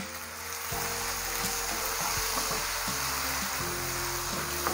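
Chopped onions and tomatoes sprinkled with salt sizzle and fry in a pan, a steady crackling hiss broken by a few soft stirring knocks.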